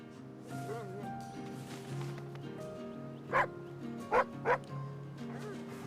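A sled dog in a snowy yard gives high whimpers and whines, then three short sharp barks, fairly close over a low, steady background hum.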